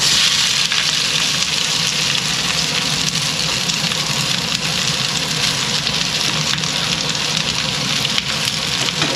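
Cabbage fries hard with garlic in a hot pan over a strong flame, giving a dense, loud, continuous sizzle and crackle that never lets up, with no voices over it.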